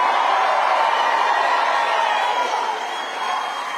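A large crowd roars and cheers continuously at a Trump town hall in Oaks, Pennsylvania. The sound is loud and sustained throughout and eases slightly toward the end. No one speaks over it.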